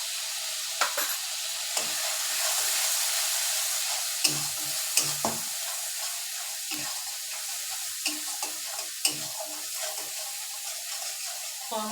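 Cumin and coriander powders fry in oil for a Bengali prawn and Malabar spinach curry, a soft steady sizzle punctuated by sharp clinks and scrapes of a spoon stirring the pan.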